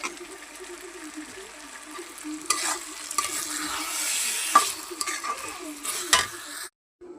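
Chicken biryani being stirred and fried in a pot, soft scraping spoon strokes over a low sizzle, close and fairly quiet, ending abruptly in silence.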